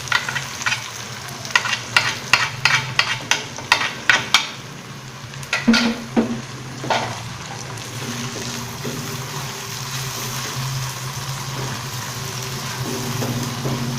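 Chopped tomatoes frying in a pan with potato and cauliflower for a home-style aloo gobi, with a run of sharp spoon-against-pan stirring knocks over a continuous close sizzle that carries on steadily afterward.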